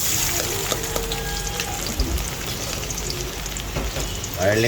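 Garlic fries in hot cooking oil for a vegetable and bitter melon dish, making a continuous close sizzle with scattered pops and crackles and faint voice in the background.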